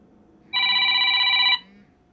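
A RealSAM Pocket smartphone rings with an incoming call, one steady electronic trill lasting about a second, loud and close against quiet room noise.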